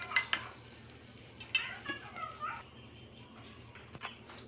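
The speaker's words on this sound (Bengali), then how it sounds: "আর এখানে একটা কড়াই বসিয়েছি, কড়াইয়ের মধ্যে একটু বাটার দিয়ে দিয়েছি।" Butter heating in a kadai gives a faint, steady sizzle with a few soft clinks and stirring taps scattered across it, all fairly quiet and close, with no one speaking.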